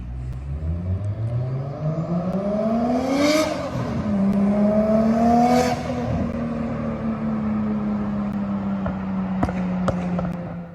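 A car engine plays back from a recording, revving up twice in long rising sweeps before settling into a steady, loud drone, with a few faint clicks near the end.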